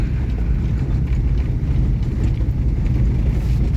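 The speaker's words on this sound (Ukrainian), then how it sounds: "Ну тут по автобану і буде можна саму гору їхати першою передачею" A vehicle climbs a hill on an autobahn in first gear, its engine a steady, loud low rumble with constant wind buffeting throughout and no talking.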